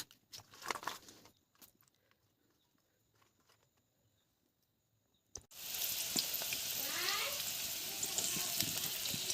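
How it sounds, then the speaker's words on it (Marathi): Crab pieces for a spicy Konkan-style crab curry hit hot oil in a pan, and a loud, steady sizzle takes over after a quiet stretch with a few faint clicks and rustles. "पण तेला टाकलेला मी मस्तपैकी असा भाजून घ्यायचं आहे जोपर्यंत लाल नाही होत"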